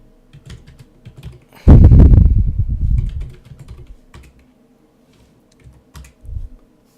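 A password is tapped out on a computer keyboard in a quick, dense burst of close keystrokes lasting over a second, followed by a few scattered single taps in an otherwise quiet room.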